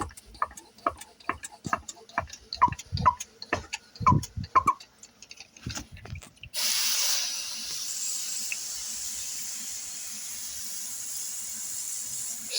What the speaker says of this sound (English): I basically just spray all the way to the end till there's maybe about a half liter left.